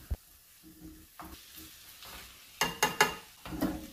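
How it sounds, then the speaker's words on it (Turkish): Bulgur toasting in tomato sauce in a pan sizzles softly while a spoon stirs it, with several sharp scraping clatters and a louder burst of crackling toward the end. "Bulguru kavururken sosun her yerine işlemesini istiyorum."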